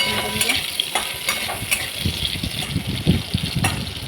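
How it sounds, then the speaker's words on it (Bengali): Long-cut potato sticks stirred in hot frying oil, a busy sizzle broken by repeated spatula scrapes and taps, close up with no voices. "লম্বা লম্বা করে কাটা আলুগুলো একটু তেলে নেড়ে নেবেন"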